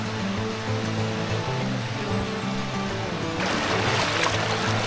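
Waterfall at Sapang Uwak in Porac, Pampanga: a constant, broad rushing roar of falling water, close and loud, growing a little stronger near the end, with no voices over it.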